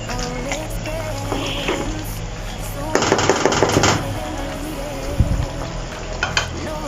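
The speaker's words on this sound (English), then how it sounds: "So we stir it. Give it a thorough stir." Afang (okazi) soup being stirred in a pot, with close wet scraping and sizzling bubbling and a denser burst of stirring midway. No one speaks.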